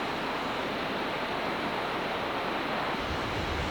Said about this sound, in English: feel like water coming down.